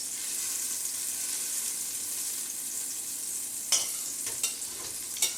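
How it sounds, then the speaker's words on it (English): Butter melts in a pan for a roux with a soft, steady sizzle and hiss, and a few faint scrapes of a utensil near the end. "by melting a little bit of butter, the first half of our roux"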